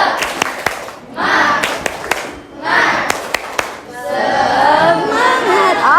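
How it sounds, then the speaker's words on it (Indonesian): A seventh-grade class claps in unison in a rhythmic 'tepuk semangat' pattern, sharp sets of group claps separated by shouted chanting from the students, loud and close in a classroom. "kita tepuk semangat dulu ya"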